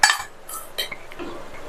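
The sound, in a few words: mixing chapati stuffing with cheese and coriander in bowl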